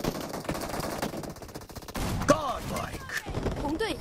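PUBG Mobile gun game match with machine gun fire, rapid bursts of shots at moderate level, thickest in the first half, with whooshing effects and voices mixed in.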